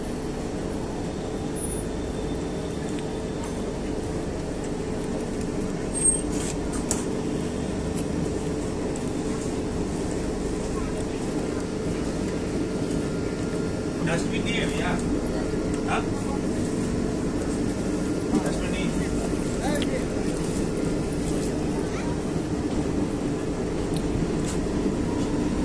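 Steady rumble and rattle of the Bhagalpur–Anand Vihar Garib Rath Express running, heard from inside a carriage as a continuous drone with occasional clanks, while someone speaks over it.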